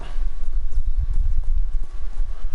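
Horse hooves clip-clop steadily at a trot in the video game Ghost of Tsushima, a close, regular patter of footfalls over a low rumble of game ambience.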